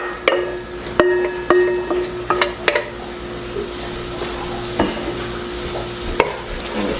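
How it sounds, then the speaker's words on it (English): Chopped onion sizzles softly in melted butter in a pan while a spoon stirs and taps against the sides, with several sharp clinks early on, close up and fairly quiet. "And stir that into the butter"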